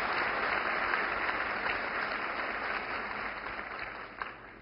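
A crowd at a women's empowerment event welcoming Prime Minister Modi applauds continuously, a dense wash of clapping that slowly tapers off over several seconds.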